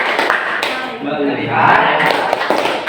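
A classroom clapping routine called tepuk fokus, with sharp rhythmic hand claps between words spoken aloud by a teacher and pupils.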